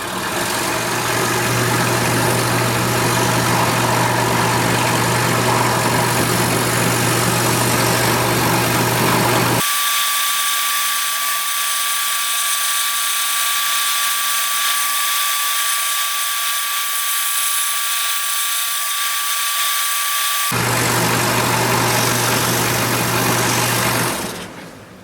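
A power saw fitted with a number 5 reverse tooth blade runs at a steady loud whine while cutting wood. It drops briefly to a lighter, thinner tone midway, then returns to full load.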